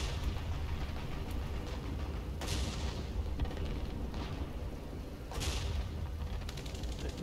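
Tank cannon fire in War Thunder, two heavy booms a few seconds apart over a constant loud rumble of engine and battle noise.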